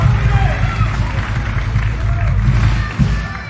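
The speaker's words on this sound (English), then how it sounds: "one more big round of applause for Keenan Chong, founder of Siva Afi Company, for coordinating" Event crowd giving a round of applause for the coordinator at Hawai'i Kuauli 2021, steady clapping and cheering under a murmur of chatter and nearby talk.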